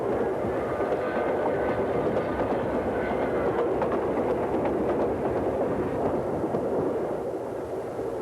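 A train rolls through the California high desert near Hesperia at sunset, a steady, loud, continuous rumble of wheels and engine that holds evenly throughout with no voices.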